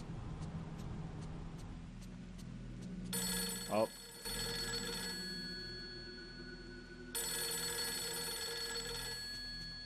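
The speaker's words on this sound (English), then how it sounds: "Let's go answer this phone." A telephone rings in the Fatal Frame 3 video game, two long electronic ring bursts separated by a pause over a quiet ambient hum, with a brief voice between them.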